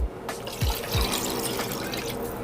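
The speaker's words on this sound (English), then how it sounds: "3 cups of water." Water pours into a cooking pot for vegan jackfruit birria consommé, a continuous splashing, trickling fill that sounds close and steady throughout, with a couple of low thumps near the start.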